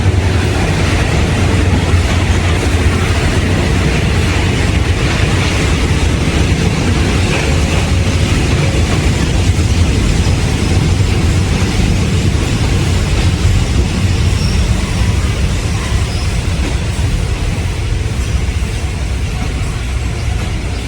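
Local passenger train 447 from Surat Thani toward Sungai Kolok, a stopping service, gives a steady, loud rumble and roar of running on the rails for the whole stretch, with faint rhythmic clatter and no talk.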